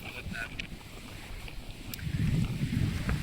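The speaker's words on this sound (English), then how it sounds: "It's very windy, so this is a good test of the wind filter on here." Gusty wind buffets the microphone with low rumbling bursts that swell louder toward the end, with faint sounds of movement nearby, outdoors at Croome, a National Trust park.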